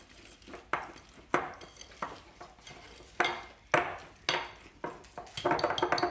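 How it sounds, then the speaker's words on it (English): A whisk works through very thick batter for an ice cream sandwich cake, giving rhythmic clanks and scrapes against the bowl, then a few sharp taps to knock batter off and a quicker rattling mix, close and clear. "See how I have to tap the whisk to get that all out. I'm going to mix some more."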